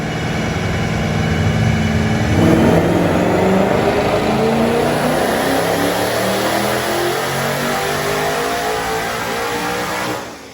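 A twin-turbo Mustang engine on a dyno with exhaust cutouts closed, revving hard in a long, loud, continuous pull that climbs steadily in pitch before cutting off at the end.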